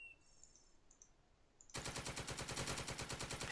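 Machine gun fire in the Second Front war game, a quiet ambient bed with faint chirps that abruptly gives way to loud, rapid, steady automatic bursts, close and continuous to the end, with no talking.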